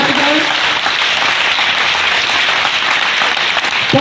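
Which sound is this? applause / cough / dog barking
applause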